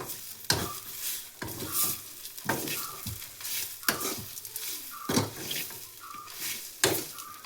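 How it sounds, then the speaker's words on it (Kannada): A turmeric and tamarind mixture is stirred in a pan for a sweet potato sambar, with close, steady scraping strokes repeating about every second over a soft background sizzle. "ಸೊ ಚೆನ್ನಾಗಿ ಒಂದ್ಸಲ ಮಿಕ್ಸ್ ಮಾಡ್ಕೊಳ್ಳಿ."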